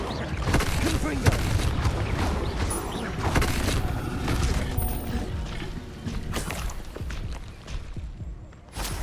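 Confringo fire blast spells being cast in the Hogwarts Legacy video game: a dense run of booming, crackling blasts and mechanical clanks, with several sharp impacts and a brief lull near the end, under some talk.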